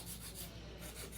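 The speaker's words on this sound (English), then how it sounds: "This hand filer is not for you to use to shape, it's for you to bring your shape out more crisp" A hand file rasps across an acrylic nail in a quick series of short, soft strokes, close up and quiet with no voices.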